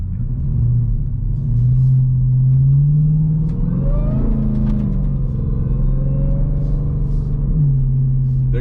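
Dodge Trackhawk engine revving while the SUV drifts and slides uphill on a road, a loud deep rumble with rising and falling revs that holds steady over several seconds, close and continuous.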